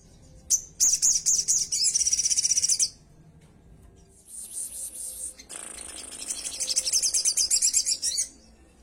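Sogon bird sings in dense, rapid rattling chirp bursts that mimic a golden grasshopper, two long clear phrases separated by a brief quieter pause, close and bright.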